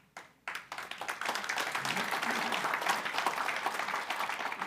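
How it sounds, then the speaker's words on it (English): A conference audience breaks into applause, a sudden burst of many hands clapping that quickly settles into sustained, fairly loud, even clapping throughout, with some crowd murmur underneath. "Now, I'm getting the applause"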